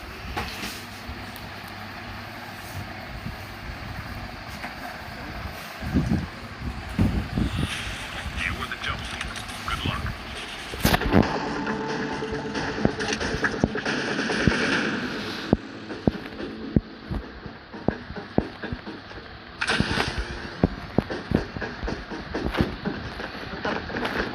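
Call of Duty gunfire: sharp bursts and pops scattered over a continuous rumbling background, with a voice talking throughout.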